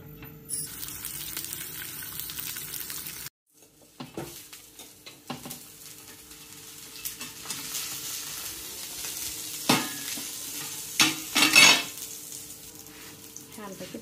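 A ragi and bottle gourd paratha roasting with ghee on a hot pan gives a soft, steady sizzle up close, with a brief silent break and a few clattering handling sounds near the end.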